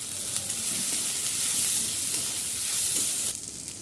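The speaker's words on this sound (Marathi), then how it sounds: "कोबीज एकसारखं परतून घ्या" Cabbage with turmeric stir-fried alongside tomato, a dense steady hiss of sizzling close up with faint stirring, cutting off sharply near the end; no voices.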